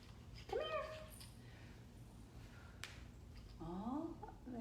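A cat meows twice, a rising then falling cry near the start and another a few seconds later, fairly close but soft, over a low background hum with a brief click in between.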